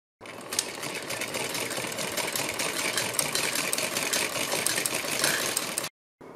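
A sewing machine stitches a seam along a blouse back neckline, running steadily and evenly for several seconds before stopping abruptly, then a brief restart at the very end.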